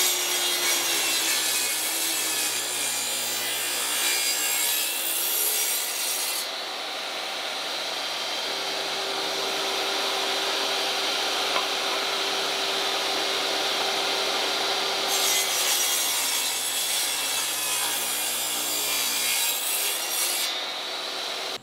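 A power saw with its blade set at 25 degrees cuts through a wooden post cap, a loud continuous whining buzz with two high-pitched cutting stretches at the start and end and a steadier running tone between.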